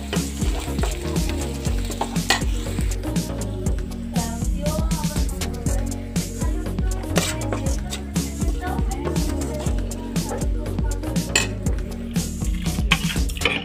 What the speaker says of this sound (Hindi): सूखे मसाले इसी के साथ लगा रही हूँ बस तड़का।